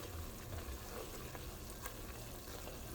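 A Cajun roux for jambalaya frying in a pot on medium heat as it is stirred continuously, a steady close sizzle with soft scraping of the spoon throughout.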